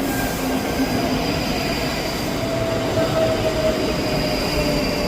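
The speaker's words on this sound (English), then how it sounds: "Arriving in now is the 11:48 Scotrail service from Helensburgh Central to Edinburgh Waverley." A Scotrail class 334 electric multiple unit arriving at Edinburgh Haymarket station, with a steady rolling rumble of wheels on rail and faint brake squeals, loud and near throughout.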